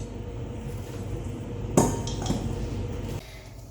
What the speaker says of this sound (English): I'm going to take this, my groundnut paste, and put it into my pot